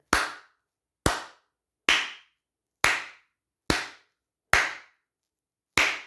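Seven loud, crisp hand claps at a steady pace of roughly one per second, each sharp and isolated with quick decay and silence between, made to set off a sound detector module driving LEDs.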